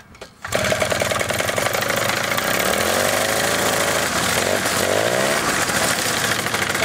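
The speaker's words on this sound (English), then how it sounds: "I'm going to give it a little bit of accelerator just to increase the revs a bit while pull starting it." A paramotor's small two-stroke engine catches after a pull start and runs loud and close, with a steady buzzing drone whose pitch rises and falls as it is revved.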